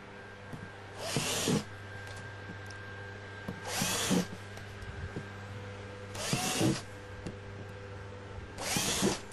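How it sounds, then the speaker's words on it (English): A power drill whirs in four short bursts, drilling holes for sheet metal screws, evenly spaced a few seconds apart, over a steady background hum. "we're going to now drill 4 holes, and we'll use sheet metal screws to attach it"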